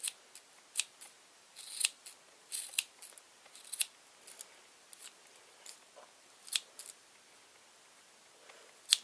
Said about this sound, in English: If you see any that are too long, just snip them off.